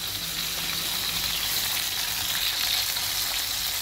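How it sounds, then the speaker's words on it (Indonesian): Sea fish frying in hot oil gives a continuous crackling sizzle, close and even throughout, with no talking. "Ini lagi goreng ikan laut ya teman-teman"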